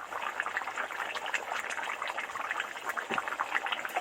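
Katla fish curry (kalia) with potatoes bubbling in a pot on the stove, a steady close, soft crackling simmer with dense small bursts and no talk.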